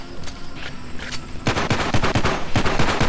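Rapid bursts of gunfire from a gun in a zombie VR shooter game, sparse single shots at first, then a dense, loud run of machine-gun-like shots with no talking.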